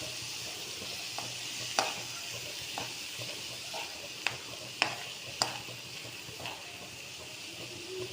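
Cooked clam meat is stirred and fried in a pan, giving a soft continuous sizzle and hiss. Occasional sharp clicks of the spoon against the pan stand out, with nothing else in the background.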